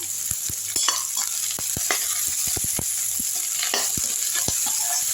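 Onions and curry leaves sautéing in a pan, a constant bright sizzle punctuated by sharp, irregular clicks and knocks of a ladle stirring against the metal.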